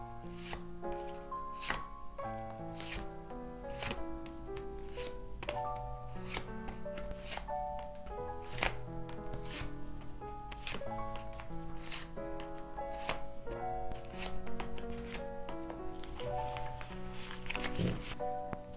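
Tarot cards are shuffled and drawn with repeated crisp riffles and slaps, close and clear over a soft musical background, the card sounds coming in a steady irregular rhythm.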